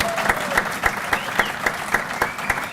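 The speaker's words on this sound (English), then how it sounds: "One last applause for our coaching staff." Applause from a luncheon audience at a BYU Cougar Club event for the coaching staff, many hands clapping steadily with a few sharper accents, fairly close and loud.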